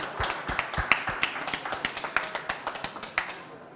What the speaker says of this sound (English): Okay, so a big applause to all of us.